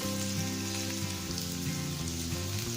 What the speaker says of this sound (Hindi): आलू को चारों तरफ से गोल्डन फ्राई होने तक हमें इसे फ्राई करना है।